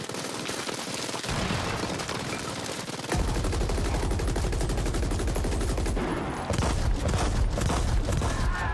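Shotgun fire crackles through a combat scene in the game The Ascent, with dense, rapid overlapping bursts and booms under a constant loud wash of battle noise, steady throughout with no voices.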